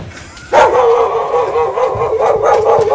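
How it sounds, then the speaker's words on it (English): A dog barks and yelps loudly and close by, with repeated sharp calls and a sustained howling whine over a short stretch, while the barking continues in bursts. "The dog is trying to eat me."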